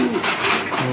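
Pigeons cooing in a loft during steady rain, a low soft coo repeating near and clear over a constant wash of rainfall.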